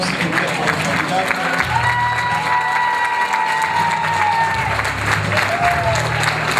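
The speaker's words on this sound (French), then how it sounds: "Les applaudissements, s'il vous plaît, pour les candidats." Audience applause and some cheering for teen pageant candidates at a casting event, continuous crowd clapping under loud background music with sustained tones, with voices mixed in.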